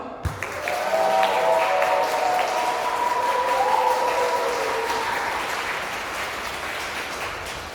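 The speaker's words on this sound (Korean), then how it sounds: "그럼 성스러운 예식을 여러분의 큰 박수와 환호성으로 시작하겠습니다." Wedding guests applaud and cheer as the ceremony opens, a sustained, even wash of clapping with raised voices that holds for several seconds and slowly eases.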